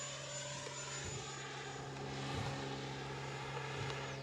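An XFly Sirius 80mm EDF jet model plane flies with full landing flaps, giving a steady, continuous whine and rush at moderate distance with no talking.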